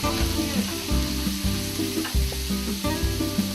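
Onions and chopped peppers sauté in olive oil in a pan, a steady close sizzle with repeated soft stirring scrapes throughout.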